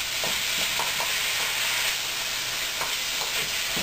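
Burdock root, leaves and stems sizzle loudly in a hot pan during a stir-fry, with faint scraping stirs sounding through the steady hiss.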